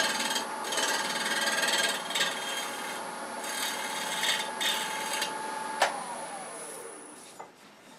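Turning tool cutting a Bradford pear wood bowl on a lathe, a steady scraping, rasping whir with a few sharp catches and ticks, close and moderately quiet.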